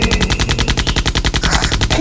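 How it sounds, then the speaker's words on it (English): Rapid machine-gun fire from the cartoon hitman Killer Bean, a fast continuous burst of loud, closely spaced shots that runs unbroken the whole time. "Killer Bean has to shoot beans."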